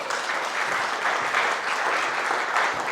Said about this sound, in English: round of applause please for Alex.